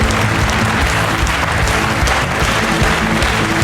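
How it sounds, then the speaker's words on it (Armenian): Dense, loud audience applause fills a studio show hall, continuous and even from start to finish with no talking over it. "ձեր բարձր ծափարությունները"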